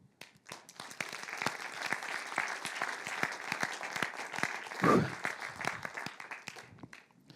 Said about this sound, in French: Et c'est vous, ce soir, qu'il faut encore applaudir